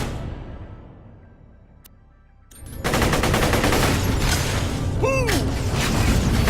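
Dense, rapid automatic gunfire from turrets in the video game Borderlands: The Pre-Sequel erupts after a quieter lead-in, sustaining a loud continuous barrage with mechanical clatter and a brief high electronic whine near the end.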